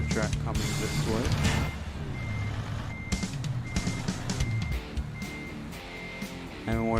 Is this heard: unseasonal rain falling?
no